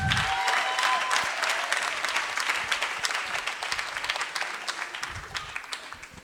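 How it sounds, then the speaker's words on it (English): An audience gives a sustained round of applause at a live spoken-word or comedy performance, dense clapping that is loud at first and then tapers slightly over several seconds, with no voices over it. "Round of applause to the dark girls."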